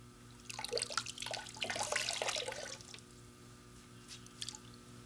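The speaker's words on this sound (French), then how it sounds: "Un petit peu d'eau chaude." Hot water trickles and drips close by in soft, irregular splashes, fairly quiet, with a faint steady hum underneath.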